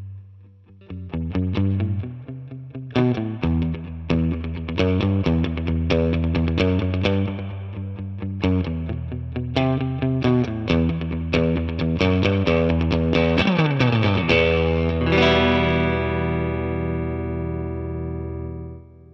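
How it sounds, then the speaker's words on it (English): An electric guitar through a Two Rock Studio Signature amp with the reverb turned all the way up plays a surf-style run of plucked notes and chords, ending on a chord that rings out in a long, washy reverb tail. "So I'm going to give you the utmost reverb possible right here and let Baxter get surfy for us."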